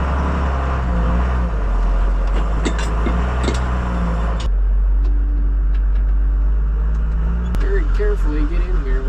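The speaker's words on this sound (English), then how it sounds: "we're gonna hop in the payloader and scoop a couple buckets of crap out of the cabin shed" A payloader engine runs with a deep, loud, steady rumble that drops briefly midway and then revs back up, while someone talks over it.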